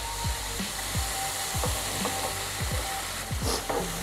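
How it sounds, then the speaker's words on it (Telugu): Tomatoes and grated carrot fry in a pan with tempering oil, a steady sizzle over a gas flame with repeated scraping stirs of a spoon, close and moderately loud. "ఇప్పుడు దీంట్లోకి టమాటాలు, మనం ముందర తురుముకున్న క్యారెట్ వేసి టమాటాలు మగ్గేంత వరకు దీన్ని వేయిద్దాం."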